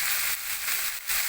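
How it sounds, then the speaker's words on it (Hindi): Kachnar buds frying in oil, a loud steady sizzle and hiss close up, with brief dips in intensity. "ये देखिए जी कचनार हो रही है फ्राई।"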